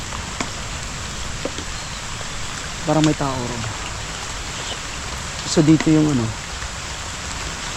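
Steady light rain falls outdoors near a murky, overgrown lagoon, a constant soft hiss of drops throughout, with brief voices talking twice in the middle over it.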